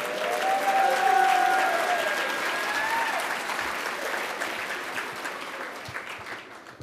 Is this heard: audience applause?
yes